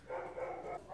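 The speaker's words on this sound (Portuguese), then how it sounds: "Eu tô esperando os cachorros parar de latir pra voltar a gravar" Dogs bark and yelp in the distance, faint and brief, with a drawn-out whining tone.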